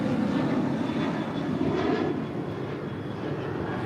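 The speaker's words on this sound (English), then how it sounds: "2037 departing to Seattle on a 737-900 ER." A United Boeing 737-900ER departs LAX bound for Seattle, its engines a loud, steady roar that holds for the whole stretch and eases slightly toward the end, with no voices over it.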